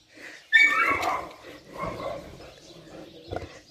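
A dog barks sharply once, then gives softer whimpering yips and a final short bark, close by indoors with quiet gaps between sounds.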